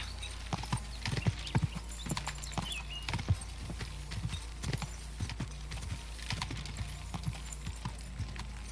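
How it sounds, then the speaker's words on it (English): Horse hooves clip-clopping in the video game Kingdom Come: Deliverance II, a steady run of crisp, distinct hoof strikes over a low constant rumble, with no talk. "We got better at riding a horse."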